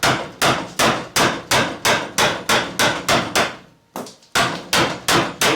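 A mallet strikes a medium-sweep gouge a little over an inch wide, carving into wood with about a dozen sharp, evenly spaced knocks, one short pause near the end, then more blows, loud and close.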